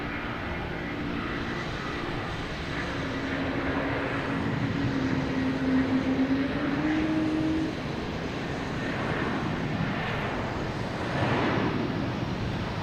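Airbus A330-300 jet roaring down the runway on takeoff from Boston Logan bound for Amsterdam, a steady broad engine rumble with a rising whine, heard from a distance with no talk.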